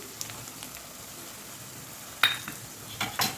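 Coarsely ground peanuts fry in hot oil with turmeric in a pan: a faint, steady sizzle with a few sharp metallic clinks of a stirring spoon near the end.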